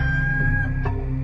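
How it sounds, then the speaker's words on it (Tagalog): A rooster crows once as a sound effect in a Filipino-language Passion of Christ audio drama, marking Peter's denial. The crow is moderately loud and stands alone over a steady low background, with no voices. "siya namang pagtilaok ng manok"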